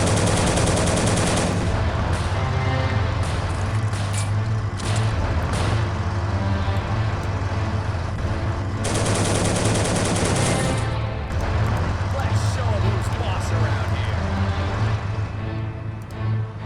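Sustained World War 2 battle fire in Soldiers: Heroes of World War 2, with armour-piercing rounds in play; dense, loud, continuous gunfire and rumbling engines fill the whole stretch with no pauses.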